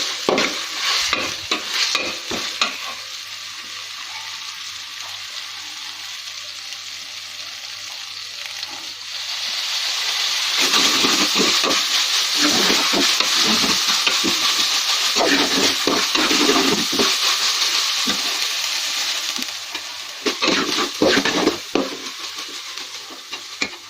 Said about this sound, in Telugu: ఇది బాగా కలుపుకుందాము